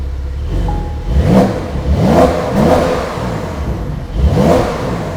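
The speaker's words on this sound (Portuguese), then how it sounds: "Aí vou dar só uma aceleradinha." A Porsche 911 Carrera 4 GTS Cabriolet engine with its exhaust open revs hard several times in close succession, each surge climbing and falling back to a rough, loud idle.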